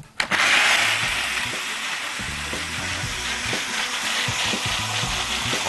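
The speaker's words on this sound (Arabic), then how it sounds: "الخلاط افضل" A blender whirs loudly and continuously after a brief thump at the start, its motor droning steadily with a gritty, churning texture as it makes pesto sauce.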